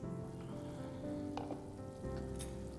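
Handi gosht, a mutton gravy with green chilies, simmers in a covered pot with a steady, even sizzle and faint bubbling that runs close and constant throughout.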